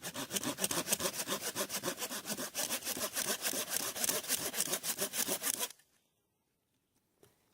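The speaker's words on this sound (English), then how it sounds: "Just got my little handsaw here." Small handsaw cutting through a dead standing tree in a forest, about five seconds of rapid, even back-and-forth rasping strokes close up, then sudden quiet.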